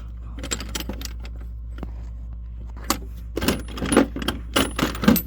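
Metal wrenches clink and jangle as someone rummages through tools near an abandoned Yard Machine push mower, scattered sharp clatters at first, then busier bursts of rattling metal toward the end, over a low steady hum.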